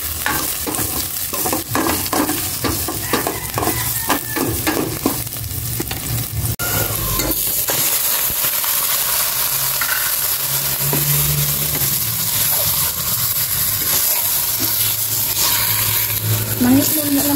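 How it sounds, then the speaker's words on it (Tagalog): Garlic and onions being sautéed in a pan, a loud continuous sizzle with rapid stirring scrapes early on, and voices chatting over the frying. "Gisa ko na rin itong bawang tsaka sibuyas."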